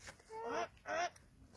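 Ducks at a lake giving two short, nasal honking quacks in quick succession, close by and fairly faint against a quiet outdoor background.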